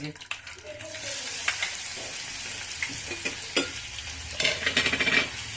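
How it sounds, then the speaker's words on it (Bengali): Garlic fries and crackles in a pan while being stirred for mustard greens, with uneven bursts of sizzling and scraping that swell toward the end. "এই যে রসুন দিয়ে আমি এখন নাড়াচাড়া করছি।"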